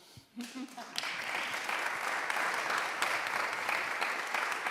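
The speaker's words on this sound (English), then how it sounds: "You can clap anytime." An audience at a conference panel on gender apartheid breaks into sustained applause after a brief voice, a broad, even wash of many hands clapping at moderate distance.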